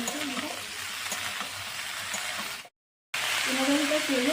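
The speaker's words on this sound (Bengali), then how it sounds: "এই যে পেঁয়াজ রসুন দিয়ে সুন্দরভাবে ভাজতে নিলাম। আর এর মধ্যে দিতেছি এই যে ফুলকপি।" Cauliflower fries in oil with onion and garlic, a dense, close sizzle that breaks off briefly and then returns a little louder, with faint background hum.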